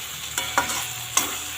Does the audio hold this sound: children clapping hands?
no